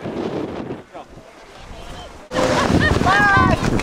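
Wind gusts buffet the microphone outdoors on a cold day, rough and loud, rising sharply halfway through as people talk over it.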